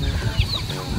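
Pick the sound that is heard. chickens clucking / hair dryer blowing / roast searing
chickens clucking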